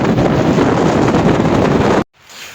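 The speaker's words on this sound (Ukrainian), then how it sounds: "Вітер дуже потужний." Strong mountain wind on a ridge trail roars and buffets the microphone in a loud, steady rush, then cuts out abruptly to a much quieter background.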